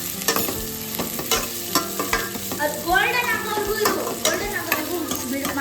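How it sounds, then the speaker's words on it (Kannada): Onions sizzling and frying in a pan for chicken tikka masala, with repeated scraping stirs and clinks of a utensil against the pan over a steady close crackle. "ಈಗ ಇದಕ್ಕೆ ಈರುಳ್ಳಿ ಹಾಕ್ಕೊಂಡು ಇದು ಕೆಂಪು ಬಣ್ಣ ಬರುವವರೆಗೂ ನಾವು ಚೆನ್ನಾಗಿ ಕುದಿಸ್ಕೋಬೇಕಾಗುತ್ತೆ"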